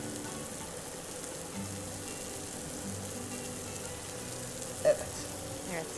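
Syrup poured over a hot Turkish dessert fresh from the oven hisses in a steady, even sizzle, a soft continuous crackle with one brief louder clink near the end.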